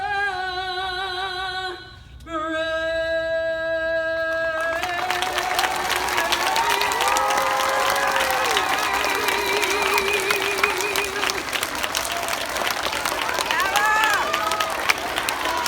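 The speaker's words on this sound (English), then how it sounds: "A big round of applause for Mrs. Murillo." A singer's sustained final note of the national anthem at an elementary school gives way to a long, loud burst of audience applause and cheering from a crowd of students, continuing steadily throughout.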